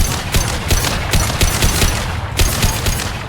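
Gunfire in the video game Mass Effect 2, loud rapid bursts of automatic shots in a dense, fast rhythm throughout.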